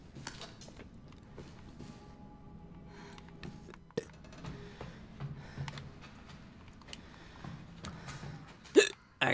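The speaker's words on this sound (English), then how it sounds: "I got severe hiccups." Hiccups come in short, sharp bursts, with a loud catch near the end, set over a low, steady background rumble during a Resident Evil 7 gaming session.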